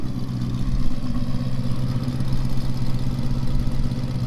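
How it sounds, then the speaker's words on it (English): A 1958 Chevrolet Apache pickup with a ZZ383 crate V8 idles nearby, a steady deep rumble with a slight rhythmic lope and no talking over it. "So here's the 58 Chev running."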